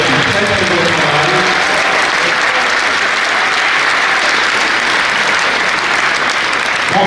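Sustained applause from an audience at a 2018 Nîmes chess championship prize ceremony, honouring the arbiters and organisers; dense, even clapping fills the room at steady loudness throughout.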